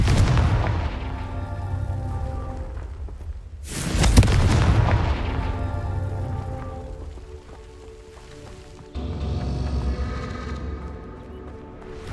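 Confringo fire spells in the Hogwarts Legacy video game go off in repeated booming blasts, each a loud thump with crackling fire that trails off, with a third blast arriving near the end.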